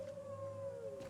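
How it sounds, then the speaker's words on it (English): A lone wolf howls in Skyrim, a single sustained tone that slides slowly downward, faint and distant over a quiet background. "I hear wolves. I just heard a wolf."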